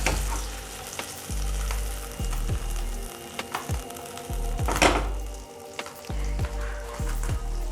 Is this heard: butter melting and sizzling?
yes